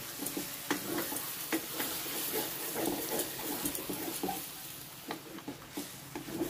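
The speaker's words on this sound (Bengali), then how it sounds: "চিনিটা দিয়ে একটু নেড়ে চেড়ে ভালো করে মিশিয়ে দেব।" Spiced potato curry with a little sugar stirred in a pan: a soft, steady frying sizzle with repeated light scrapes and taps of the spoon, fairly quiet and close.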